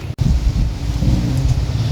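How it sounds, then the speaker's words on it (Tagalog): Strong wind buffets the microphone with a steady low rumble in a plant garden, loud and continuous, no voices. "Dito mahangin pa, kaya ako yung nagdidilig palagi."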